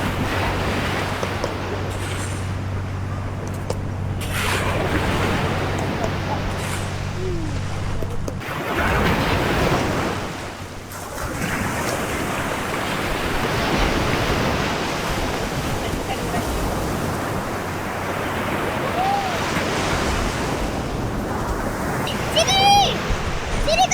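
Sea waves wash steadily onto Mersing beach at rising tide, a constant surf roar with wind buffeting the microphone and a brief lull midway.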